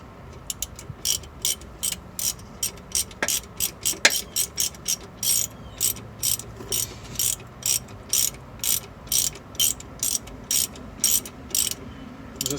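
Ratchet wrench tightening the bolt on a car's front strut assembly: a loud, close series of rapid clicking bursts in a steady back-and-forth rhythm, repeating continuously throughout.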